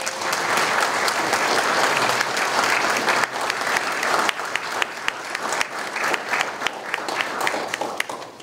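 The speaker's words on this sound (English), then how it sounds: "If I can get a round of applause for my awesome staff who are standing in the back." Sustained round of applause from an audience at a county historical society annual meeting, dense and steady clapping fairly close for about eight seconds.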